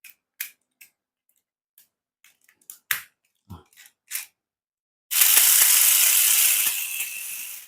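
A Crush Gear toy's internal gears click and snap in irregular bursts, then grind in a loud sustained rasping whir, close by with no talk.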